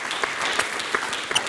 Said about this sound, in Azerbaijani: Hamımız ürəkdən alqışlayaq.